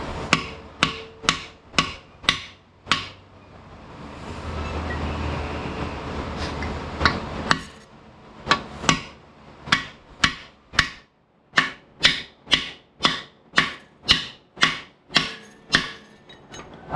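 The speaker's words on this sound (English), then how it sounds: "I'm going to try just hitting them with the brass hammer." Brass hammer striking the seized connecting rods of a 1968 Mopar 440 engine: a long series of sharp metallic hits, roughly one or two per second, loud and close, with a short scraping pause partway through.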